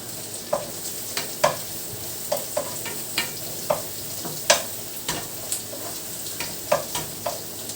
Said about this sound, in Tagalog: papulayin na natin yung bawang